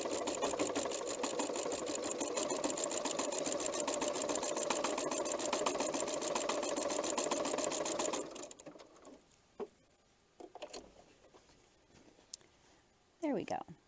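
A sewing machine stitches along the edge of a paper-pieced heart block with a fast, even, continuous mechanical whir for about eight seconds, then stops, followed by a few faint handling clicks.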